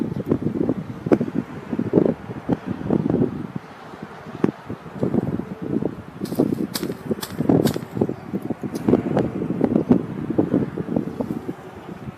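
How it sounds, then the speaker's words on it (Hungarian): Wind gusts buffet the microphone in uneven rumbling bursts, with faint rustling and a few crisp clicks partway through; no one speaks. "Fúj a szél."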